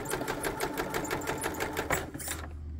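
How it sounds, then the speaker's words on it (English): A sewing machine runs steadily, stitching a chalk-marked seam on 18th-century style fall front trousers, with a fast, even needle rhythm throughout before stopping near the end. "I'm sewing up to the pin and taking the pin out."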